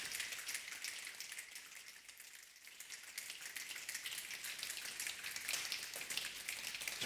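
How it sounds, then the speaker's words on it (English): Synthesized rain texture from a synth effects plugin, a bright continuous hiss of fine drops that dips briefly and then swells back louder, steady and even with no voices. "Really interesting rain effect, and what's great about this is it's controllable via the mod wheel"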